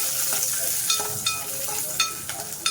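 Cashews and raisins fry in ghee in a thick-bottomed pot for semiya payasam, a continuous close sizzle broken by several bright scraping stirs at irregular intervals.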